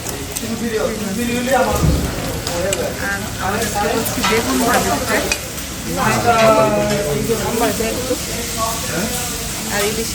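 Hilsa pieces fry and sizzle in a pan at a riverside eatery at Mawa ghat, a loud, constant crackle with voices talking nearby.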